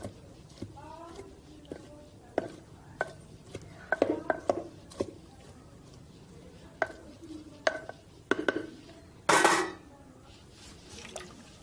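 Pressing mustard greens into a pot with a wooden churner for sarson ka saag, giving scattered short knocks and clinks of wood and metal at an uneven pace, with a voice talking over them.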